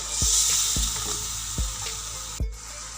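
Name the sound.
mutton trotters (goat paya) being fried gently in a pot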